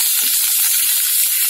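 Tempering in a hot pan of mustard seeds, cumin, urad dal and curry leaves for a keerai thuvaiyal, giving a steady, close, loud hiss and sizzle with no talk over it.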